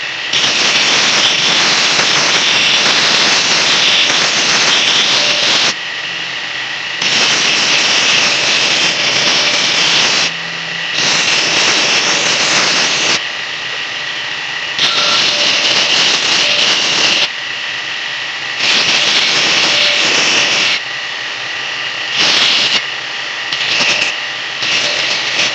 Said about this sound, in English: I'm going to use this here nasty worn out 36 grit belt with my 8-inch contact wheel